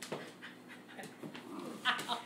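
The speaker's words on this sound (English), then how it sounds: "That is one crazy dog." An American Eskimo dog pants and whimpers close by in short bursts, with a few high whines near the end, while a person talks alongside.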